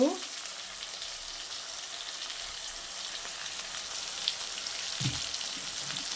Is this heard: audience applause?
no